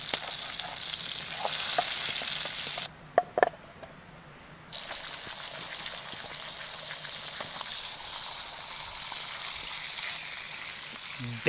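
Bacon, butter and brown trout fry in a pan over a campfire, giving a loud, steady sizzle that cuts out briefly for a couple of seconds, then resumes with a few light clinks; no talking.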